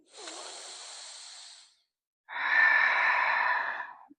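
Two long, slow breaths during a gentle prenatal yoga class, a soft hissing exhale followed by a pause and a louder, airy breath, close and alone.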